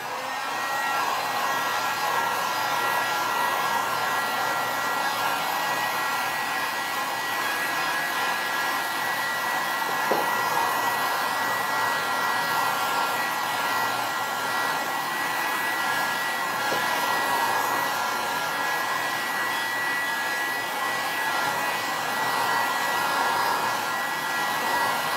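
A hair dryer drying varnish on a handmade coffee-corner craft plaque runs steadily and close for the whole stretch, a constant loud whooshing blow with no talk.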